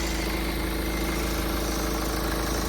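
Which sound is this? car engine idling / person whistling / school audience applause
car engine idling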